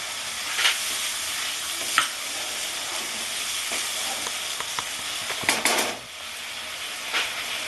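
Broth with raisins bubbles and simmers in a pan for Bengali potol dorma, a continuous close hiss and burble with a few light clinks, and nobody speaks.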